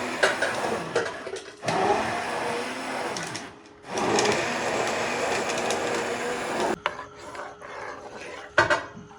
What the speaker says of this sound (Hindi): इसको मैंने हैंड चॉपर कर लिया था